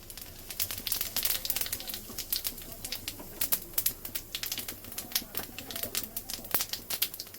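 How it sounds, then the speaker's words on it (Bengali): Bay leaf and cumin seeds crackling and sizzling in hot oil for tempering a Bengali rohu fish curry with raw banana and potato, a dense run of sharp pops and spits over a steady frying hiss, close and fairly loud. "তেলে ফোড়ন দিয়ে দেবো"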